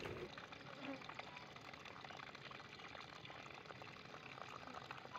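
Water running and splashing outdoors by a roadside while fish are washed, a steady broadband wash throughout with faint voices and activity in the background.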